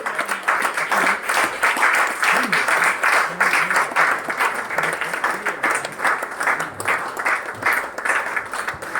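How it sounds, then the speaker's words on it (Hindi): Loud, sustained applause from a large crowd, dense steady clapping filling the whole stretch with a faint voice underneath. "जोरदार तालियां होनी चाहिए"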